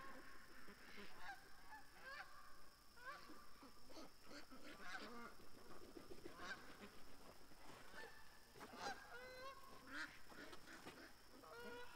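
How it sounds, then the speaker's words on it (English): A flock of seven Canada geese honking repeatedly overhead, fairly faint and distant, calls overlapping in an irregular chorus with no talking. "There comes some Canada geese."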